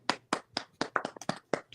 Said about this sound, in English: Let's give a big round of applause for Big Toledon.